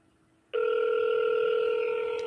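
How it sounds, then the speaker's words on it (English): An outgoing telephone call rings as a steady electronic tone that starts abruptly after a short quiet and holds loud and clear to the end, with no voices over it. "See how it's ringing now?"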